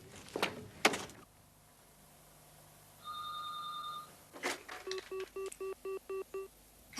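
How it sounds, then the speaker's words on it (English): An old-fashioned payphone is used: a receiver handling clunk, a steady dial tone, then a clattering coin or dial sound and a run of evenly spaced ringing beeps, all close and quiet. "There's an unusual old-fashioned payphone."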